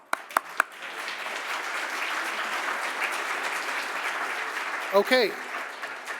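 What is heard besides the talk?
audience applause for Lee after talk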